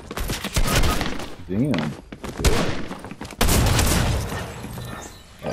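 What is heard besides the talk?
pump shotgun fire in Fortnite video game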